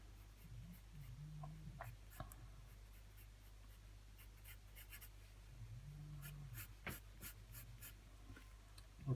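Pencil drawing on paper while sketching the mouth of an anime male head in side view, faint scratchy strokes in short bursts over a quiet steady background hum.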